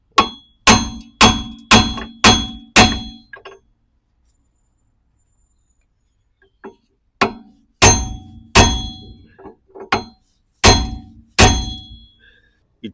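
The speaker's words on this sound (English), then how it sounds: "Now need to give tiny tap and have a look. It will come out with the hammer first." Metallic clanging hammer strikes on the rear right wheel hub of a 2014 Hyundai i10 ring out, five quick hits in a row, a long pause, then another series of loud ringing blows.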